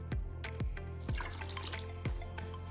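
Water poured in repeated splashy glugs onto organic rolled oats in a container, close and fairly loud, with a steady trickle continuing between the pours.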